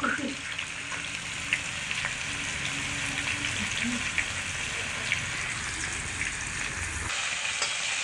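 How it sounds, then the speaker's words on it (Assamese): Onions fry lightly in a pan with a steady, moderate sizzle and occasional small pops and stirring, cooking over a wood fire. A voice is faintly present in the background. "হালকাকৈ পিঁয়াজৰ লগত ভাজি লৈছে"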